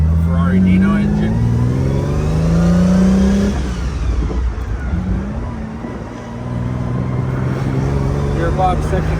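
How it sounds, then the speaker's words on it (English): A 1967 Fiat Dino Spider's 2-liter Ferrari Dino V6 engine revs and pulls strongly through the gears, loud and close, with a rising and falling drone throughout. "A wonderful, wonderful sound from the 2-liter V6 Dino Ferrari engine"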